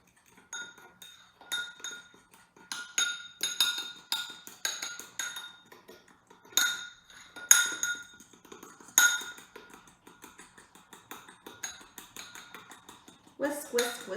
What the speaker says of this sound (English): Whisk, whisk, whisk, whisk.